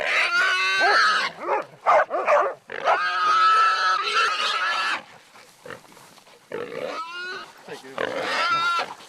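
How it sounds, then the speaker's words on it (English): Hunting dogs holding a wild pig during a New Zealand pig hunt, with loud squeals and harmonic cries close by, broken by short gaps, over barking and shouted talk. "the dogs are holding a pig"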